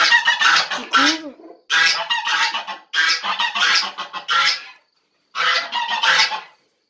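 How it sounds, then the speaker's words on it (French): A brooding goose sitting on her eggs gives repeated harsh honks in several loud bursts separated by short pauses, close by and alone. "Ici on a une oie, mon oie qui couve."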